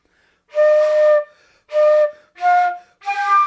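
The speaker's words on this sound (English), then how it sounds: "So you get an airy sound like this." Four breathy flute notes, the tone airy and thin from too much air escaping past a beginner's lips, each held about half a second to a second with short gaps, played alone with no talk.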